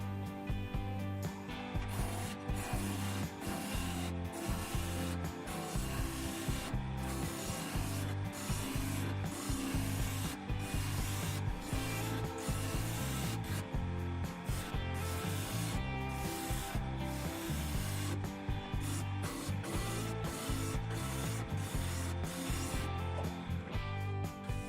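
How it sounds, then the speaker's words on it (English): Wood lathe turning a long 40-inch spindle, a continuous low rubbing hum broken by rapid rhythmic scraping and rasping passes of a tool or abrasive against the spinning wood, steady throughout. "Let's go over to the lathe now."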